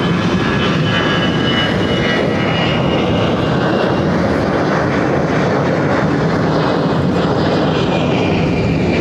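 An airliner arriving from Atlanta goes around at LAX, a loud, sustained jet engine roar with broadband rumble that holds steady and close for the full stretch, with no talking.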